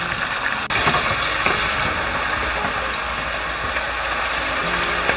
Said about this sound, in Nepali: यसलाई यत्तिकै भुट्दै गरौँ।